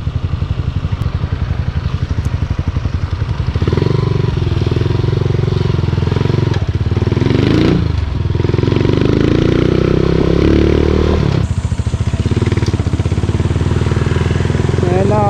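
A motorcycle engine rumbles loudly and close throughout while riding in Tarlac, Philippines, shifting pitch as it speeds up, with rattles and a brief dip midway.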